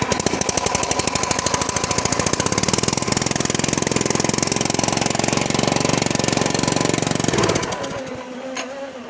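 An RC lawn mower's blade motor starts and runs with a loud, rapid mechanical clatter like a jackhammer, steady for several seconds before abruptly cutting off.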